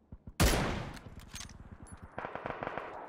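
Bursts of automatic gunfire in the shooter game PUBG, a sharp loud volley followed by rapid repeated shots, then a second quicker string of fainter shots from farther off.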